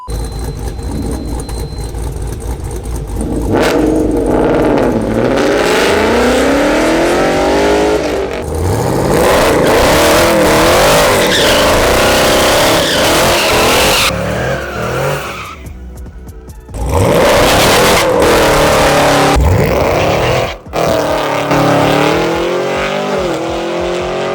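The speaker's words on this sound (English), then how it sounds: "You guys could hear the car hitting the limiter." A supercharged Chevrolet Camaro SS engine screams at high revs, repeatedly bouncing off the rev limiter with stuttering bursts, tires squealing between gear changes while racing.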